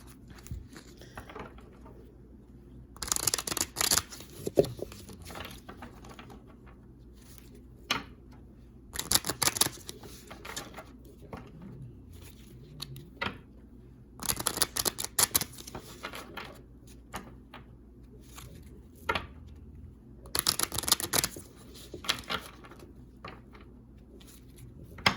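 Deck of angel cards shuffled in repeated bursts, several riffling clusters of crisp papery flutter separated by quieter pauses, close and moderately loud with no talk.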